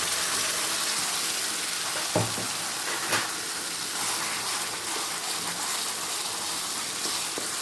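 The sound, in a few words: curry leaf chutney poured into sizzling tempering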